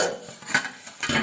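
Meat stir-fried in a pan for a Mising Gahori pork dish, with scraping, clinking spatula strokes and a faint sizzle in irregular bursts, close by with no talk.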